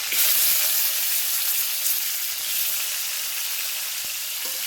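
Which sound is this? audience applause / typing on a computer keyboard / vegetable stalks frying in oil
vegetable stalks frying in oil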